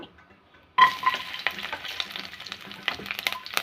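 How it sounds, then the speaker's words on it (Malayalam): Mustard seeds and chopped garlic drop into hot oil in a pan for egg curry, setting off a sudden burst of steady, crackling sizzle with stirring, close and moderately loud. "കുറച്ച് എണ്ണ ഒഴിച്ചു കൊടുക്കാം കടുക് ഇട്ട് കൊടുക്കാം"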